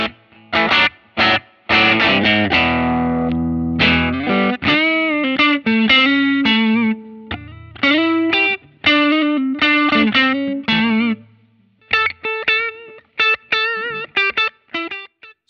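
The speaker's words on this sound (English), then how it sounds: "The idea behind this amp is the early orange sound and that tweed kind of big mid-range sounding amplifier" Electric guitar played through a Helix 3.15 tweed-style amp model voiced after early Orange amps, giving a mid-heavy, driven tone; close and loud chord stabs and short riffs with abrupt stops between phrases.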